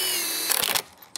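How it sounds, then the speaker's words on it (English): A power drill fitted with a tapered pre-drill bit whirs briefly, close and loud, while boring into a composite deck rail, then winds down with a short rattle. "I'm gonna grab my pre-drill, tapered pre-drill bit."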